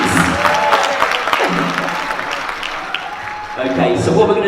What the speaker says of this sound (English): please, clap your hands, stamp a bit.